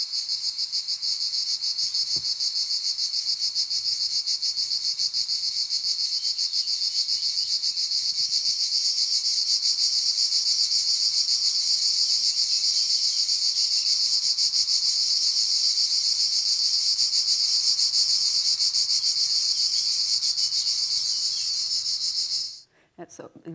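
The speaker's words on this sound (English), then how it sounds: "So it was summer, so many cicadas and other insects" A dense, steady high-pitched drone of summer cicadas and other insects at midday buzzes continuously, loud and unbroken, cutting off abruptly near the end.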